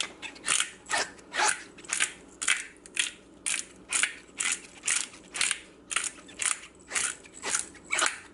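A pepper grinder cranked over seasoned chicken for sheet pan fajitas, about fifteen crisp, evenly spaced crunching grinds in a steady rhythm, close and moderately loud, with no talking.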